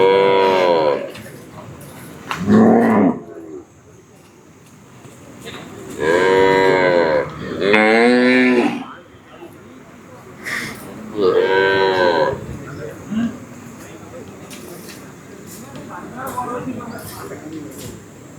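Native cattle at a livestock market in Thiruchengode moo several times, loud and close, while people talk in the background between the calls.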